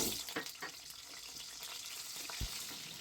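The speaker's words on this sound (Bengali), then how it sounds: "এখন এই তেলের মধ্যে আমি দুটো আলুকে এরকম এক একটাকে চার টুকরো করে ভেজে নিচ্ছি" Quartered potatoes frying in hot oil give a soft, steady sizzle and crackle, fairly faint, with a few brief clinks and spatters and no voices.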